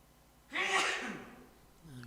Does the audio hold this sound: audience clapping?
no